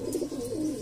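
Banarasi breeding-pair pigeons coo softly in a brief, close, throaty murmur, about a second long.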